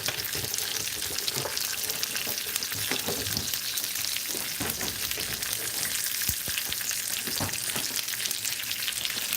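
Greens fry and reduce in a pan for a meat casserole frittata, with a dense, steady sizzle and crackle that runs throughout, close and fairly loud, broken by occasional stirring scrapes and no talking.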